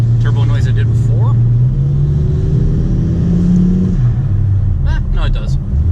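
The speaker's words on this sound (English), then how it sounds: "And then when I let off the throttle, it didn't make the same kind of turbo noise I did before." Volkswagen Touareg engine fitted with cone air filters, revving close and loud with a rising and falling drone, while a person talks over it, chirpy intake and turbo whooshes breaking through.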